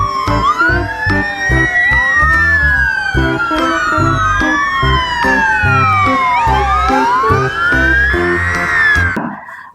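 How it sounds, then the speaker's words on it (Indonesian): A toy fire truck blares a loud electronic siren, its wailing tones sweeping up and down repeatedly and continuously, close by, before cutting off abruptly. "Yang ini ada mobil pemadam kebakaran."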